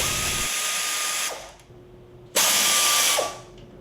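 A power drill loosens the fender bolts on a vehicle being fitted with a No Limit tilt hood kit, giving two sustained close, loud whirring bursts with a drop to quieter ratcheting between them.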